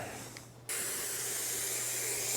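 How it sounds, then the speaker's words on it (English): Spray adhesive hisses steadily onto a car headliner and Alcantara fabric, a loud continuous aerosol spray that starts abruptly after a brief quiet moment and keeps going to the end, with no voices. "you basically want to generously spray on both the headliner and the material"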